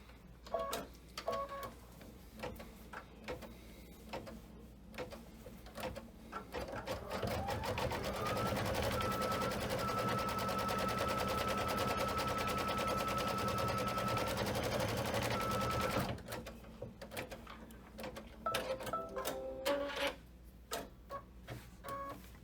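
Embroidery sewing machine stitching the outline of a cake layer on a quilted pillow block, a steady rapid mechanical chatter running about eight seconds mid-clip, with quieter intermittent machine noises before and after.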